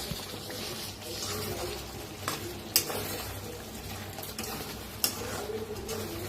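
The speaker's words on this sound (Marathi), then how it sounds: "आता जरा मिक्स करून घेऊया." Stuffed capsicum curry with roasted besan is stirred in a pan, a steady soft scraping and sizzle with a few sharper clinks of the spoon against the pan.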